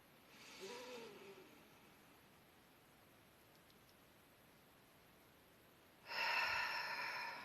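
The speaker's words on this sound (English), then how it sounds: "let's just take a couple deep breaths, breathing in the light." Slow deep breathing during a guided meditation: a soft inhale near the start, a long quiet stretch, then a louder, close exhale at the end.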